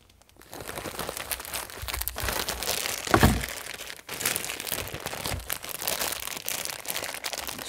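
Tightly wrapped plastic packaging around a printed shirt being handled and pulled apart, continuous close crinkling and rustling with a few sharper cracks.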